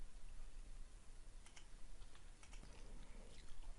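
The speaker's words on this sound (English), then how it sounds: "I'm gonna press enter." A computer keyboard under rapid, close typing while a Linux configuration file is edited on Ubuntu, giving soft clustered clicks and key presses, quiet and steady, without talk.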